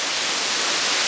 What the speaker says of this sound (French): Le deuxième point, c'est cette cascade qui se situe à 2700 mètres d'altitude